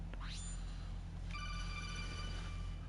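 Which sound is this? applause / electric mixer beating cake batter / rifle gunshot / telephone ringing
telephone ringing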